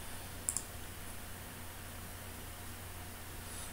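Two quick mouse clicks close together, faint over a steady computer fan hiss while working in a Windows Explorer window.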